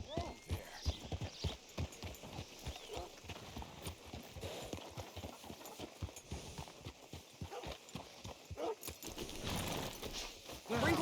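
Horse hooves clip-clopping at a steady walking rhythm in the Red Dead Redemption 2 game world, fairly close and moderately loud, with a brief whinny and voices talking over them.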